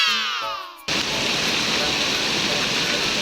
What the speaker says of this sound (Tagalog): aantayin nyo lang mapuno yung coconut sa taas mga mari at ayan na nga, ibubuhos yung tubig sa inyo